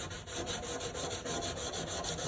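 Brush scrubbing the ring of a sink drain basket, a loud, close, steady rhythmic rasp of quick repeated strokes with no talk.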